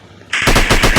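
Rapid automatic gunfire in the FPS Online Strike video game, starting abruptly after a brief quiet moment and continuing as a loud, close, steady burst of shots.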